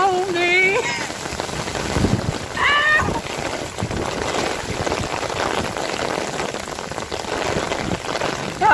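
Heavy rain pours down steadily in a rainstorm, a dense close patter of drops on surfaces throughout, with brief whistled or sung tones early on and faint voices underneath.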